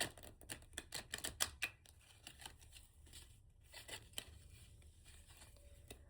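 Oracle cards being shuffled, a quick burst of close riffling snaps that slows into scattered softer flicks and shuffles.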